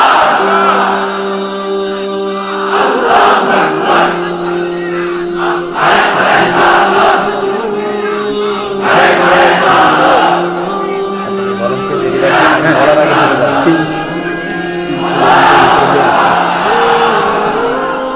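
At a Bengali religious sermon gathering, a large crowd chants takbir, answering a lone voice in loud, swelling shouts that recur about every three seconds.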